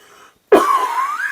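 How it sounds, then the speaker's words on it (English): A single harsh cough bursts out after a short pause and trails into a rough, raspy throat sound, close to the microphone and fairly loud. "I'm coughing like heck."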